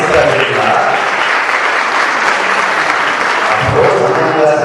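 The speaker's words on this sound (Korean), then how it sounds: "박수 부탁드립니다." Applause fills a wedding hall, a dense, steady wash of clapping from many guests lasting throughout, loud and close, with faint voices mixed underneath.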